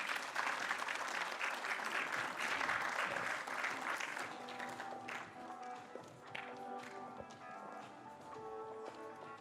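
An audience at a CityLab 2016 project presentation claps for the Clear Channel France team, dense applause at first that thins into scattered claps and fades to sparse taps toward the end.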